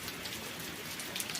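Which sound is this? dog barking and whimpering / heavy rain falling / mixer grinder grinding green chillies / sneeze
heavy rain falling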